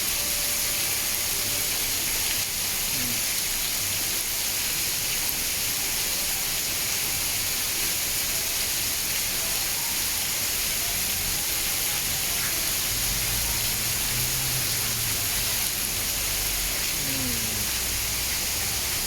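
Heavy rain falls steadily at a home in the Thai countryside, a dense, even hiss of downpour continuing without break for the whole stretch, with a few faint distant sounds beneath it and no talk.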